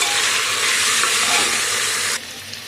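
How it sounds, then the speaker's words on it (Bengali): Chopped bottle gourd with ginger-garlic paste sautés in a hot pan, a loud, dense hiss of sizzling that holds steady and then drops off abruptly near the end. "তারপরে দিয়ে দিচ্ছি কদু কাটা, ভালো করে কষে নেব।"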